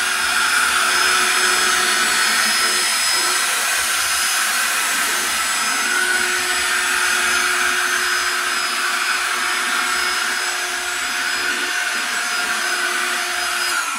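A loud, steady vacuum cleaner drone runs continuously without pause, close by, cleaning scenic material off a model display shelf, with a constant whining hiss throughout.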